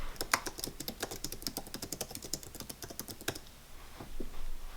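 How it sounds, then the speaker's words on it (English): Rapid typing on the keyboard of a new iMac, a close run of crisp key clicks in an uneven rhythm that stops about two thirds through, leaving quiet room tone with a few faint soft knocks. "I like to type in something"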